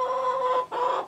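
Chicken clucking in a backyard coop, a steady tonal cluck holding for about half a second, a brief dip, then another close, moderately loud call.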